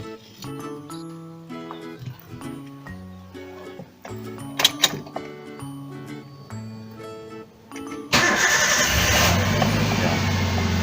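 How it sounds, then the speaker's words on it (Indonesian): Tonal, musical notes play for several seconds, then a car engine abruptly starts for air conditioning servicing and keeps running with a loud, steady roar. "Kita tunggu dulu, kita hidupkan mesinnya dulu"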